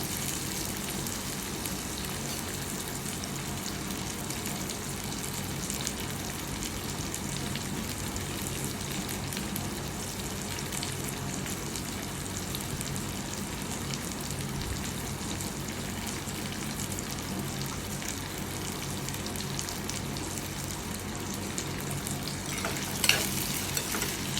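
Onions for mutton thanni kulambu sauté on low heat in a pan, giving a steady, even sizzle throughout, with a faint clink of utensils near the end.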